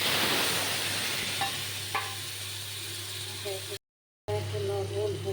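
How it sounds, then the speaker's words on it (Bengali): Ground cumin, chilli and ginger sauté in a pan, giving a steady close sizzle with a low hum and a few faint clinks of stirring, briefly cut off near the end. "এবার মশলাটা কষছি"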